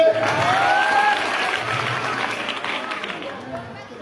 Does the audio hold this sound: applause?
yes